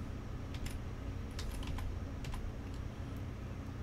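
Computer keyboard keys pressed during a session of the trucking game Euro Truck Simulator 2, a run of irregular, fairly close clicks and taps over a steady background hum, with no voices.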